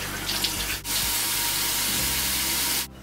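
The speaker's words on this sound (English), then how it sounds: "I'm just gonna wash it off" A bathroom tap runs in a steady, loud close rush as a dried face mask is rinsed off, with brief breaks in the flow and no talking.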